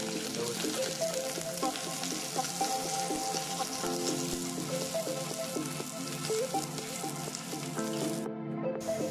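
Green chilies and chopped ginger fry in hot oil with fenugreek and mustard seeds for a fish curry, giving a steady, close crackling sizzle throughout, with scattered pops and a brief dip near the end.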